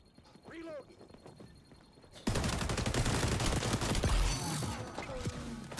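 Rapid gunfire bursts from the XDefiant video game start abruptly and continue loud and dense, with rattling automatic fire and sharp shots, after a quieter opening with brief game effects.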